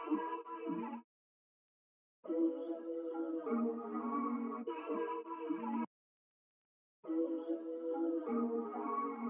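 A musical sample phrase with flanger effect and the low end cut by EQ plays in three separate bursts with short silences between, each sweeping and hollow-toned, fairly quiet.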